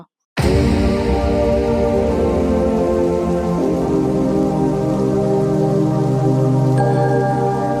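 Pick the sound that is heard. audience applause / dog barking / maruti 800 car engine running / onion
onion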